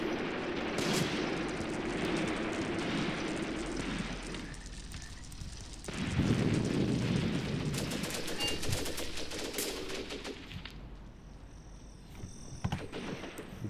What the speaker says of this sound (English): MG42 opening up on us.